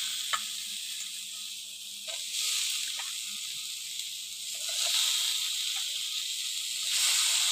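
Cut potatoes go into a hot, spiced pan while making a dhaba-style tadka, giving a steady, close sizzle and hiss that swells in a few places, with faint clinks of stirring and no talking.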